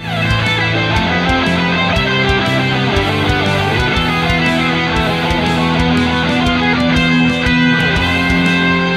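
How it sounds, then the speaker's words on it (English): A bright, fast arpeggiated synth sequence runs continuously in a rolling triplet pattern, loud and sustained with no voices. "I used a triplet subdivision type of rhythmic pattern"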